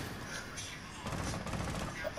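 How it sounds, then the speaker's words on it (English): Rapid bursts of Rainbow Six Siege gunfire crackle in a dense volley, muffled and moderately loud, with a voice faintly underneath. "There's some gunfire right here."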